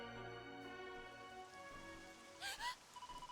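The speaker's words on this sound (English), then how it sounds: "Shoot, is that rain?" Rain patters steadily in Dragon Quest VII Reimagined, a soft hiss beneath a sustained tonal music bed, with a brief louder noisy swell near the end and no voices.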